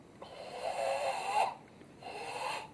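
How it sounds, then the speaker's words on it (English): Forceful abdominal breaths during a karate kata performed with dynamic tension, two long loud exhalations with a brief gap between them, close and without talk. "Full abdominal breathing."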